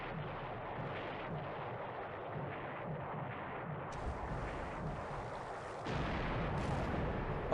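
A 1,000-pound bomb strikes a small ship in the naval strategy game War in the Pacific AE, heard as a dense, steady roar of crackling blasts and gunfire that grows louder and harsher partway through, with no voices over it.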